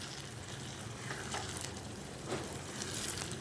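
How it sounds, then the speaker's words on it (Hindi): White dal mash, dhaba style, fries in a pan with a soft, continuous sizzle and faint crackles, close and fairly quiet. "तो अब इसके साथ हम इसको बहुत ही अच्छे तरीके से भून लेंगे।"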